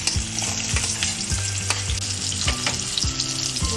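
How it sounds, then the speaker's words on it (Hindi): Onions frying in hot oil with a bay leaf and red chili for a North Indian pumpkin dal, a steady close, loud sizzle with repeated scraping stirs and no talking. "अनियन ऐड कर रहे हैं।"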